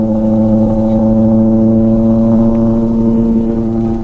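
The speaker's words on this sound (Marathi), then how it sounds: "साईच्या गावात त्याचा नुसता आवाज त्या गाडीचा." A motorcycle engine on a Konkan road ride from Mumbai to Malvan, running in a loud, steady, close-up drone with strong harmonic tones and no break.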